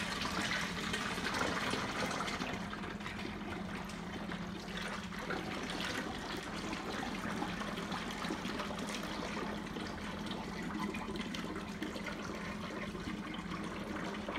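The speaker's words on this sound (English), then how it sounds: "I already started the hot water and got that scalding hot, so we're going to be ready to rinse here soon." Scalding hot water runs into a commercial deep fryer to rinse it, a steady splashing and trickling flow that holds at an even, moderate level without talk.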